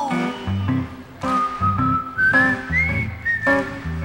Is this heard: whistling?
yes